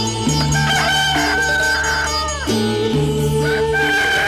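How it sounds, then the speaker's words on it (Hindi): A rooster crows with long, drawn-out calls, loud and close, repeating after a short pause over a constant low background drone, in a dramatized telling of a Ramayana story. "तब उसने मुर्गा बनकर बांग दी।"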